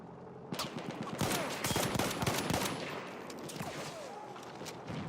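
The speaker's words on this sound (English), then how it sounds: "Scruffy putting some shots downrange." Rapid gunfire bursts and scattered single shots from a competitive Xbox One Incursions championship match, a long-range shooter firing on an objective, loud and continuous with overlapping reports and no talk.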